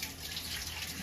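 Lukewarm tap water running to rinse a dirty old glass bottle dug up after over 100 years buried, a steady soft hiss of flowing water, close and fairly faint.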